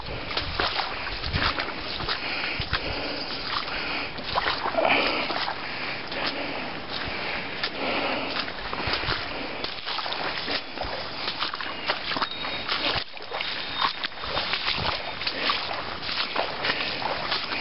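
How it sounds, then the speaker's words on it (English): Feet sloshing and splashing through shallow water and mud on a canoe portage trail in the Boundary Waters, a steady wet trudge of steps heard up close throughout with no talking. "some of it you just gotta walk through the water"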